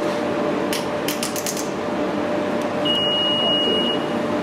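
A car key fob gives a few quick, sharp chirps, followed a moment later by a longer steady electronic beep, over a constant hum.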